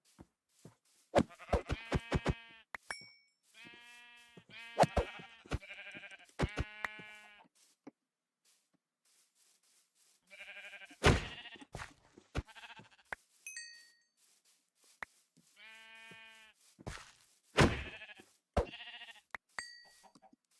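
Blocky sheep in Minecraft bleat repeatedly, several loud, close calls in bursts with short pauses between them, alongside sharp clicking hits and a few brief chiming game tones, with no talking.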